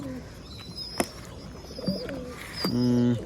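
Pigeons in a loft give soft low coos and a few short chirps, close and moderate in level, with a brief flutter or rustle partway through and a steady background hum.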